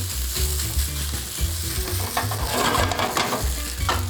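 Eggs sizzle and crackle in a hot pan as they are stirred and tossed for fried rice, with scraping and bursts of frying noise close up and no talking.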